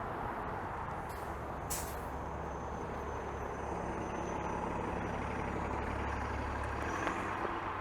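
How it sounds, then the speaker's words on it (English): Buses rumble and idle as they pull out of Warden subway station in Scarborough, Toronto, with a brief hiss of air brakes near the start and low engine drone throughout. "There's some buses rolling out."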